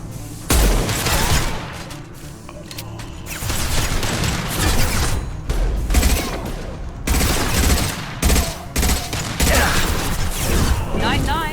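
A concussive shot goes off in a Mass Effect 2 firefight, one hit among dense, loud bursts of gunfire, mechanical clatter and booms, with combat voices shouting over the noise.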